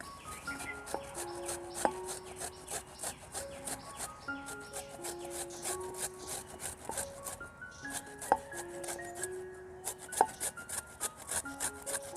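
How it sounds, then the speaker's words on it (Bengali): Young jackfruit being grated by hand on a grater, a steady scraping rasp in repeated strokes, close and fairly quiet, with background music. "এখন এই কাঁঠালের মুচিগুলো আমি একটু গ্রেট করে নিব।"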